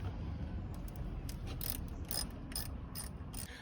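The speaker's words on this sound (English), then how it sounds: "grab your wrench or ratchet that you were using at the beginning to loosen the cables, and now you can go ahead and tighten them." A hand ratchet tightens car battery cable terminals, making short bursts of quick metallic clicks at an even pace, close but fairly quiet, with no voices.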